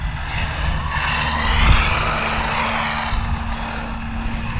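An Arrma Mojave Grom RC car driven around outdoors: a steady, high electric motor whine that swells briefly as it speeds up, then holds at a constant pitch, with no talk.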